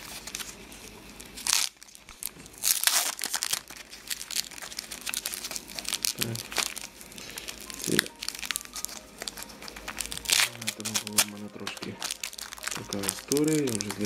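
Packaged 2018 Ukrainian commemorative hryvnia coins being unwrapped, with steady close crinkling and tearing of plastic packaging throughout, and someone talking at times over the handling.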